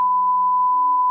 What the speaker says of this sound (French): Ça va faire un long bip.